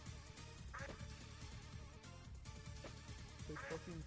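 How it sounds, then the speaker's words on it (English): Repeated duck quacks from the video game Persona 1, a few nasal calls spread across a busy game soundtrack with a voice speaking at moderate loudness. "They fucking quack?"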